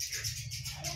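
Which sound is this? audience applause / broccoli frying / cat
cat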